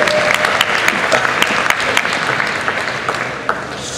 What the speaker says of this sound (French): Elle se fait toute la salle sous les applaudissements.